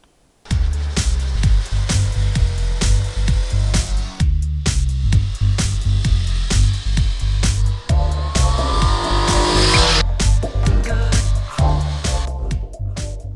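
Several fast sport motorcycles, including an MV Agusta Brutale 800, rev hard and roar past one after another, with sharp throttle bursts, gear changes and high-pitched whine, loud and close.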